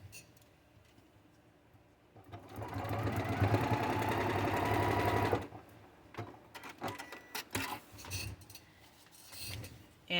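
A sewing machine stitching foundation paper piecing runs in one steady, whirring burst of about three seconds. Quieter handling of paper and fabric comes before and after, close by, with no talking.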